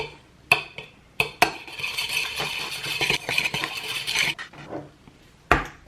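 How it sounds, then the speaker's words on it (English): An egg and cinnamon being whisked in a bowl, a busy run of fast clinking and scraping with a few sharper clanks at the start and a final knock, close and alone without talk. "then you just want to whisk it together"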